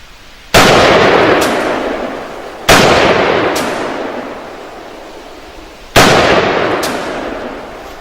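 Three loud rifle shots from a Browning MK3 chambered in .30-06 Springfield, fired outdoors at a 40-metre target, each a sharp crack followed by a long decaying echo, spaced a few seconds apart.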